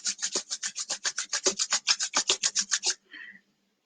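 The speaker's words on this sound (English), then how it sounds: "bring your palms together and give them a little rub" Palms rub briskly together in a quick, even rhythm of about twenty close, dry swishes over three seconds, then a brief softer rub and silence.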